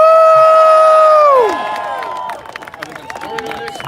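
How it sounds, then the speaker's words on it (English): A crowd at a rally in Washington, DC cheering and whooping, with strong sustained tones at first giving way to scattered claps and shouts. "Everyone give a warm round of applause for Paul Blair."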